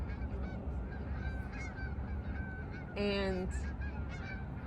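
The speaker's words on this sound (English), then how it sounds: "Oh, those ducks are going off, bro. It's a lot of them. They're flying off." Geese honk at a pond in the morning, with scattered calls early on, then a loud, close burst of honking partway through over steady outdoor background noise.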